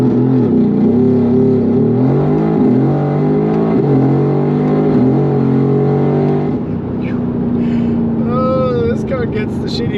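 A Mercedes AMG GT R Pro launches under launch control on a country road, its loud engine note climbing hard through the revs, then dropping at a shift before pulling again, with a faint voice near the end.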